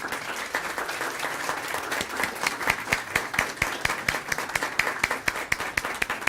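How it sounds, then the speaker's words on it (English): Sustained applause from an audience, many hands clapping steadily throughout, dense and fairly loud with no talking over it. "let's give you all a great round of applause"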